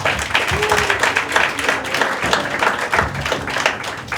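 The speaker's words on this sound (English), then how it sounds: "Let's give him a round of applause." An audience at a talk on mental health and addiction stigma gives a round of applause, dense steady clapping that continues for several seconds at moderate volume.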